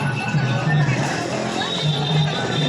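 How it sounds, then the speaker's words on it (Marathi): A packed crowd fills a busy Ganpati temple, with dense, steady babble of many overlapping voices and general hubbub close around, continuing without a break. "खूपच गर्दी आहे अशी आवाज पण खूपच आहे"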